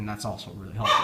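A dog barks indoors in a few short bursts close by, mixed in with a person's steady talking.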